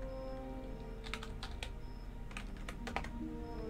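Close typing on a computer keyboard: two quick bursts of crisp clicking keystrokes over a low steady hum, with no voices.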